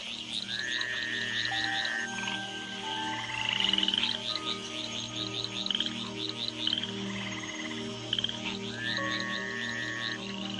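A dense chorus of tree frogs croaking, with repeated rising calls layered over a continuous pulsing background, steady for the whole stretch.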